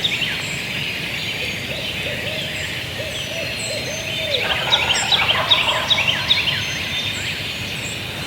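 In dawn woods on public land, an owl hoots early on. Distant wild turkey gobblers then answer from the roost with a cluster of rattling gobbles around the middle, over a steady low background.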